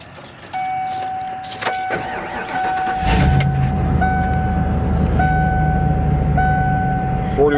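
A 1993 Class C motor home's Ford 460 V8 cranks and starts after a jingle of keys and a steady chime, then settles into a loud, steady idle close by.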